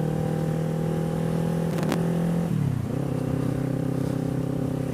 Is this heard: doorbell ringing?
no